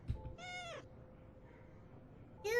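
A cat in a video game gives two short, clear meows, one early and one at the very end, over a faint steady background hum.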